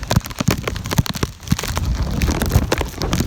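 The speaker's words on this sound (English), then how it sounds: "We're starting to get some rain." Rain from Hurricane Hanna patters and drips irregularly on a nearby surface, with sharp crackly drops and a steady low background.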